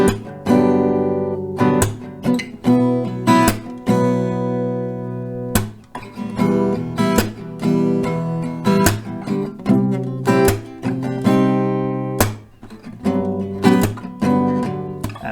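An acoustic guitar plays a strumming pattern with brief pauses between groups of strums. The strokes are loud and close, with a rhythmic stop-start feel and no voices.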